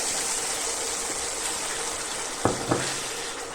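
Onion-tomato paste sautéing in a pan for a quick korma, giving a continuous hissing sizzle with two short knocks of a spoon toward the end, no voices.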